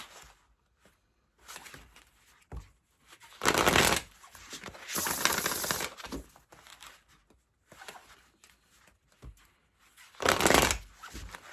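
Oracle cards from the Earth and Bone Oracle deck shuffled in hand, bursts of riffling and sliding card noise in several separate rounds with short pauses between, close and fairly loud.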